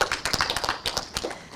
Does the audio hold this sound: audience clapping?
yes